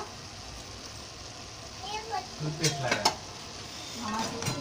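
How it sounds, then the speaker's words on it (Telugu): Cabbage cooking in a frying pan, a soft continuous sizzle with a few spatula scrapes and stirring clatters nearby, while someone talks over it. "చూడండి క్యాబేజీ మగ్గుతూ ఉంది బాగా."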